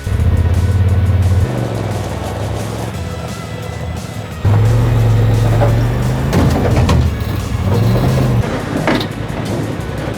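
A UTV climbs onto a trailer in low gear, its engine droning loud and close with two stronger pushes of throttle and some clanks and knocks from the ramp and trailer.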